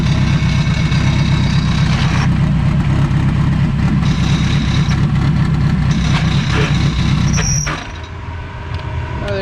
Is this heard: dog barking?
no